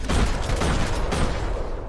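Pistol and Uzi gunfire in the video game Max Payne 3: a dense, continuous roar of rapid shots and booming reports, loud and unbroken for the whole moment.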